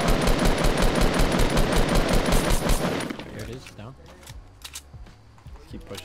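Rapid automatic gunfire in Fortnite Battle Royale rattles loudly and steadily for about three seconds, then breaks off into a few scattered, fainter shots and game noises.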